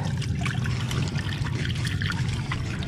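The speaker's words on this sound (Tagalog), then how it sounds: "Ayan po ang pagpapapasok natin ng tubig." Water pouring and gushing into a boat on Laguna Lake, a continuous close splashing trickle running steadily without pause.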